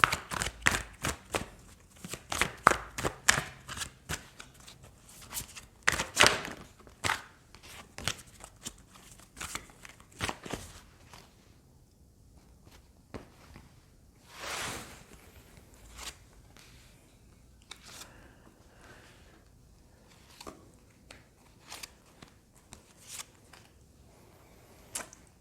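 Tarot cards shuffled, drawn and laid out by hand in a quiet room, with bursts of crisp riffling and slapping early on that thin out into sparse, soft flicks and taps.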